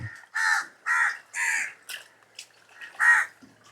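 Several loud, harsh crow caws in an irregular series, close by outdoors in a village, with short gaps between calls.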